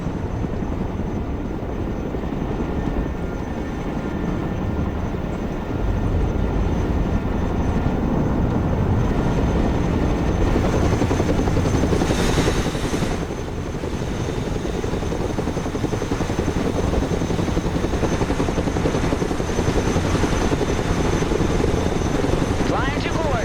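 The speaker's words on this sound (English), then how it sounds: "Let's go and recover it with our helicopter." A cargo helicopter in a military strategy game flies with a constant heavy rotor thrum and engine roar, loud and steady throughout.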